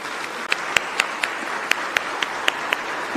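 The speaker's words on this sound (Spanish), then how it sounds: "Esto merece un fuerte aplauso." Applause from a gathered crowd, a steady wash of clapping with a few sharp, distinct claps standing out above it, heard on its own.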